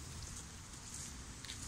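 Steady rain falls outdoors in a heavy, even hiss of dense drops with no distinct pauses, filling the whole short stretch at constant moderate loudness.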